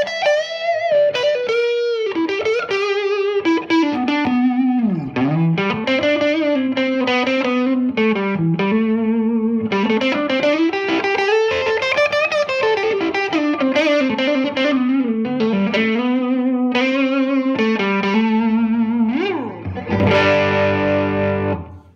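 A Gibson Midtown Custom electric guitar played through its neck pickup with heavy distortion gives a dark, thick tone, winding through sustained melodic lines and ending in a loud strummed chord.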